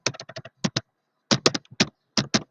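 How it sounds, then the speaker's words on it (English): Fingers type on a computer keyboard in quick bursts of crisp clicks separated by short pauses, close and clear with no talking. "So why I'm typing like this"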